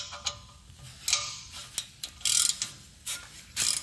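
Ratchet with a 7 mm hex bit loosening the brake caliper guide pins on a Volkswagen front brake, giving close, irregular bursts of sharp clicking with short pauses between strokes.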